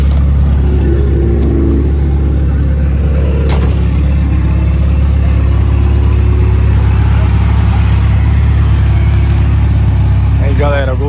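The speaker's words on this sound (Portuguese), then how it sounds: "Deixa um pouco na lenta" A VW Gol Turbo sits idling, its steady loud low engine drone continuous throughout, with faint voices and small noises over it.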